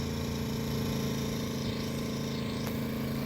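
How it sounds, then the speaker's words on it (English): Loud engine-driven generator running steadily at a campground with its exhaust pointed toward neighboring sites, a continuous droning hum that stays close and unchanging throughout, with no talking. "I don't know why the hell anybody would want to go camping and listen to a loud generator."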